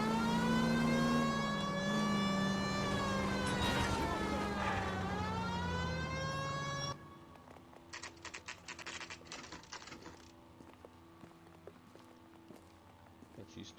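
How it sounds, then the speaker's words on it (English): A police siren wails loudly and steadily, its pitch sweeping and dipping for several seconds before cutting off abruptly, leaving quieter rapid tapping and clatter behind. "I think we need a siren."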